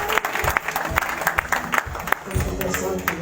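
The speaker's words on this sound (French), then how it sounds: "on les applaudit" Congregation applauding during an evening church gathering, loud nearby claps with strong individual hits over a busy crowd, voices and murmur running underneath.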